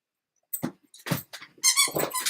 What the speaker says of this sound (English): I forgot about the squeaky toy